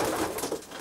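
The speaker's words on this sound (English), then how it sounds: "Pigeons look really comfortable." Racing pigeons cooing inside a stock loft, a soft, close, throaty coo rolling on briefly against the loft's background hum.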